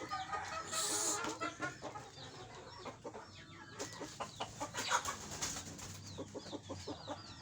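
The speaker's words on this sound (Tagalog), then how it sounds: "Tingnan natin guys yung manok natin guys na ating panglaban." Fighting rooster clucks in short repeated bursts amid other fowl and pigeon-like cooing, close and fairly quiet, with soft background rustle.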